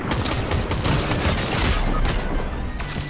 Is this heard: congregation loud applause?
no